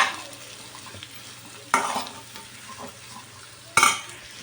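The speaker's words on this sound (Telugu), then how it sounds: "ఈ మామిడి ముక్కల్ని వేయించుకుందాం" Pieces of mango ginger fry in a pan with a soft, continuous sizzle, and a few sharp scraping stirs come close in, spaced a couple of seconds apart.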